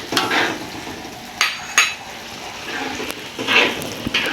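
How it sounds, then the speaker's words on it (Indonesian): Fish frying in a pan for Padang-style balado, a soft sizzle broken by stirring and scraping of a utensil against the pan, with a few sharper clinks, close and moderately loud. "goreng ikan kita."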